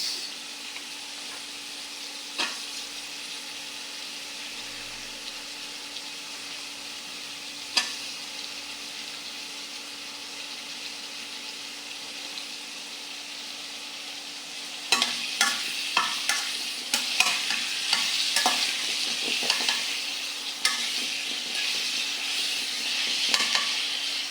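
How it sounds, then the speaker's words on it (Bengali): Fish fry in a pan with onions and green chillies, a quiet hiss at first, then a louder stretch of scraping stirs and clattering over a busy sizzle. "ভালো করে নাড়াচাড়া করে মাছগুলো ভেজে নেব।"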